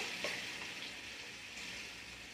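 Potatoes frying in hot oil in a home kitchen as ginger paste goes into the pan, giving a steady, close, moderately quiet sizzle with a brief louder crackle near the start and no talking.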